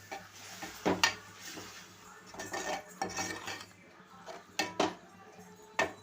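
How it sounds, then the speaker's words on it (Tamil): A metal spoon scrapes and clinks against a pan while egg gravy is stirred, several sharp taps and scrapes at irregular intervals over a low background hum. "சேர்த்துட்டு நல்லா கிளறி விட்டுக்கிடுவோம்."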